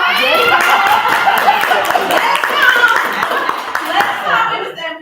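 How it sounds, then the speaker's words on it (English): A Toastmasters club audience claps for a speaker, loud close clapping throughout with chuckles, laughter and chatter mixed in. "Can you give yourself a round of applause?"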